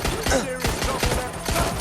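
Gunfire in Watch Dogs Legion: a rapid burst of close, sharp shots repeating about every quarter second over steady game background noise.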